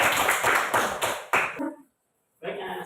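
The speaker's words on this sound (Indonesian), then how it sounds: "tepuk tangan dulu untuk kelompok satu" Schoolchildren in a maths classroom clap for the first group after a bar-chart lesson, a few loose rounds of close, uneven clapping that stop abruptly, followed by a brief silence and then a voice speaking.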